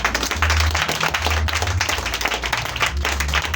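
Worshippers in a church clap for Jesus, sustained crowded applause with sharp hand claps up close over a low droning bass.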